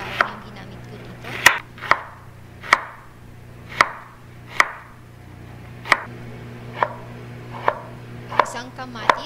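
A knife chops half a medium-sized garlic bulb on a cutting board, about a dozen sharp, evenly spaced knocks over a low steady hum, close and clear with no talking.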